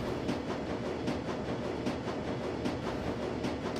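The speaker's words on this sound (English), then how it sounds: "the train rumbles its way towards Brandenburger Tor" A train rumbling along toward Brandenburger Tor in Shadowrun: Dragonfall, a steady low rolling drone with regular rhythmic clacks, moderately loud and continuous without speech.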